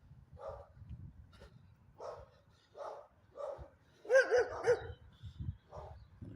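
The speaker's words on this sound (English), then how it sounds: "There's a dog barking." A dog barks repeatedly at a distance, single woofs spaced out and then a quick cluster, over a low, steady outdoor rumble.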